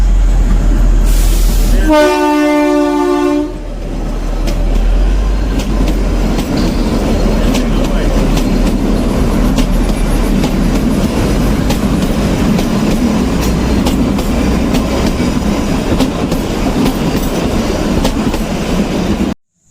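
A train arriving and passing sounds a loud blaring horn for about a second and a half, then rolls by as a long, heavy rumble with rhythmic rail clatter up close.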